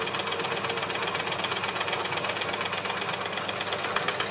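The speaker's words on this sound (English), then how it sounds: "I just want to see how much the machine sews well through there" An Elna L4 overlocker runs steadily while stitching through two layers of sweatshirt fabric, a continuous fast mechanical whirr with rhythmic knocking, close and even throughout with no talking.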